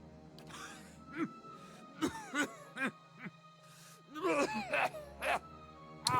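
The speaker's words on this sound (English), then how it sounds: "all that emerges is a series of violent coughs" A character in the video game Pillars of Eternity coughs violently in several harsh, throaty bursts, close and fairly loud, with gaps between them and a tone playing underneath.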